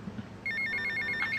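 A mobile phone in GTA Vice City starts ringing partway through, a bright repeating electronic trill, clear and fairly close.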